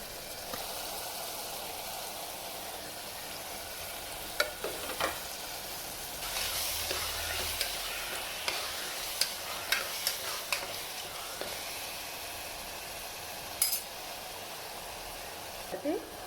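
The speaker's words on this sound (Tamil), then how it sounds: "நல்லா கிண்டிட்டுக்கோங்க தக்காளி சேர்த்துக்கோங்க" Tomato rice being stirred in a pan after tomatoes, curry leaves, coriander and chilli go in, with a steady frying sizzle under scattered scraping clicks of the spoon against the pan.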